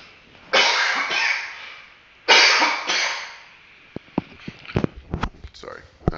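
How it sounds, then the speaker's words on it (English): A person coughs several times in two harsh bursts, followed by softer throat sounds and small clicks. "Still have a cough."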